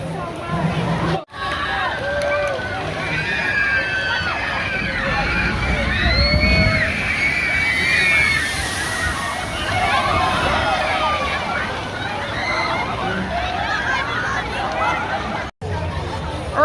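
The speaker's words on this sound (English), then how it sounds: "I'm about to do Whitewater Landing, and this is going to be a really big chute ride" Crowd chatter and running, sloshing water fill the scene around the Whitewater Landing chute water ride at Dorney Park on an opening day, a steady wash of voices and splashing without a single clear splash-down.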